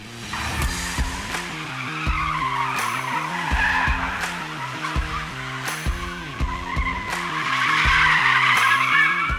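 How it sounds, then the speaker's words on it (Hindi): A Mercedes-AMG A 45 S hatchback drifts with ESP off in Sport Plus mode, its engine rising and falling in repeated revs while the tires skid and squeal loudly throughout, close and continuous. "ये कार एवरेज ड्राइवर्स को भी ड्रिफ्टिंग का लुत्फ उठाने देती है।"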